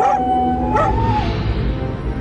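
A dog howls loudly and close in one long, wavering cry that bends in pitch before tailing off, with faint whimpering around it and no talk.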